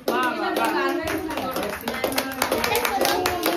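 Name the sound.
clapping at birthday celebration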